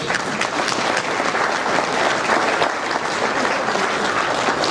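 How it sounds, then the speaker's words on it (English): An audience at a National Wrestling Hall of Fame Ohio Chapter induction ceremony gives a dense, sustained round of applause, many hands clapping steadily and loudly throughout. "Let's give them a round of applause."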